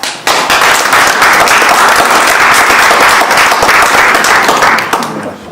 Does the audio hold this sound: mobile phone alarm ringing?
no